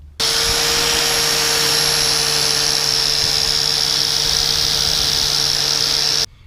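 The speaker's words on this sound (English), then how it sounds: "when I'm working on anything with an angle grinder, especially this wire wheel" Angle grinder spinning a wire wheel during axle repair in a cold winter shop, a loud, steady high-pitched whine with a bright metallic hiss that starts abruptly, runs continuously for about six seconds and cuts off sharply, with no talking.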